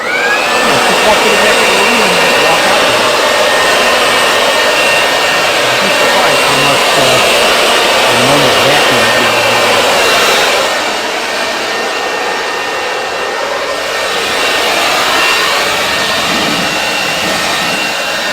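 Electric three-piece motor with two tubes, likely a leaf blower or vacuum-style unit, running steadily with a loud whining roar and high harmonic tones throughout, dipping slightly partway before resuming.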